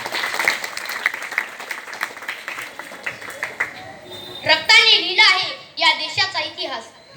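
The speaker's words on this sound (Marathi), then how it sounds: "सर्वांनी सुरुवातीला त्याच्यासाठी एकदा जोरदार टाळ्या होऊ" Clapping from a school audience at an Independence Day speech program, a ragged round of hand claps giving way to children's voices talking and calling out.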